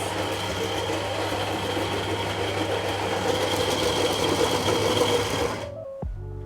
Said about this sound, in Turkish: Öğütme işlemimiz.